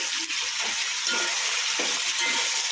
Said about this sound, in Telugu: ఒక 2 నిమిషాలు ఫ్రై చేసుకోవాలి బాగా, టమాటాలు కొంచెం మగ్గేదా